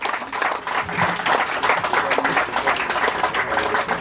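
Applause from a congregation at a church service, a dense, steady wash of clapping that runs the whole time with some voices mixed in.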